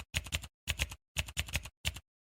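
Quick bursts of typing on a computer keyboard entering a folder name, five short clusters of close, crisp key clicks separated by brief silences.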